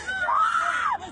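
Young girls scream as their mother is pushed into an SUV by plainclothes immigration agents during an arrest; a single sustained high wail rises and holds for about a second, then breaks off.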